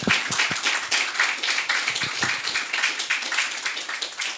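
An audience applauds a guest being welcomed onto a French-language TV magazine set, a steady patter of many hands clapping at moderate volume with no talk over it.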